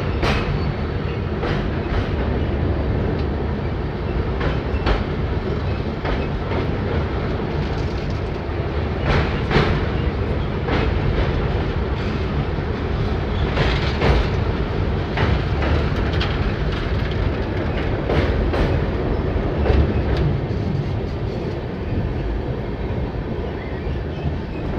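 The Bhubaneswar-Howrah Jan Shatabdi Express runs at speed, giving a steady, close rumble with rhythmic wheel clatter throughout and no voices.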